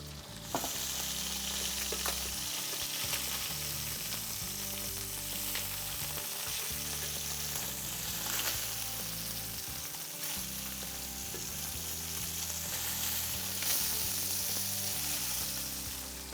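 Fish fries steadily in a pan with a continuous, close sizzle and crackle, alone and with no talking.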